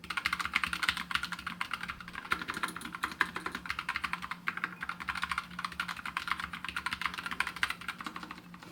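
Steady, rapid typing on a Proove Gaming AFK compact keyboard, with quick light key clicks running continuously and close up, without any voices.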